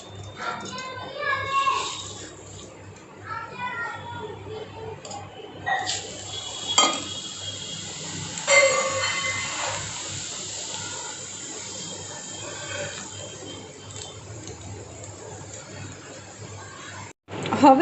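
Potato poha fries in oil for a homemade Bengali chevdo snack, a steady sizzle under clinking utensils and stirring, with an adult and someone talking nearby.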